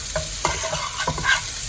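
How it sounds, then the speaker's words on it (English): Butter and flour sauté in a pan while being stirred, a steady close sizzle broken by a few soft scraping strokes of the spoon across the metal. "So let's saute our butter and flour for some time."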